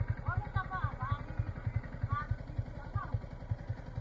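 Motorcycle thumping along steadily at a moderate distance on an off-road track in the Kodachadri hills, with people chatting over the engine.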